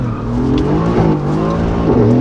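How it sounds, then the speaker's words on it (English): A Mercedes-AMG GTS engine revs high, a loud, harsh, continuous roar with rising and falling pitch sweeps, heard close and alone with no voices over it. "This engine actually wants you to rev it up."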